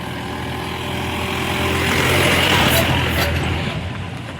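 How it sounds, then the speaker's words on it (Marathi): Loaded work trucks carrying grape-orchard labour roll along a village bypass road, a broad rushing roar that swells toward a peak past the midpoint and then eases off, with faint voices beneath. "कामाच्या गाड्या भरून चालल्यात"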